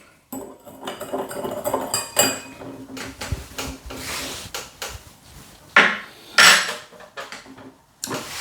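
Sugar being stirred into a homemade alcohol mixture in a pot, with repeated close scraping and clinking of a utensil against the container in uneven strokes.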